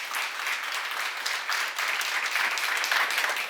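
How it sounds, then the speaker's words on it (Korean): A church congregation bursts into sustained applause during a Korean sermon seminar, a broad, continuous clatter of many hands that builds slightly louder toward the end, with no talk over it. "박수."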